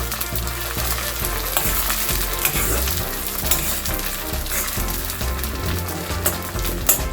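Nochi (vitex) leaves roast in a hot pan, a steady close sizzle and crackle broken by repeated scraping strokes of stirring, with no talk.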